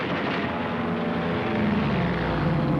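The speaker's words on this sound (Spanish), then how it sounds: "P-40 Warhawk." A World War II P-40 Warhawk fighter plane engine drones in a steady, loud propeller roar that swells slightly toward the end, with no voices over it.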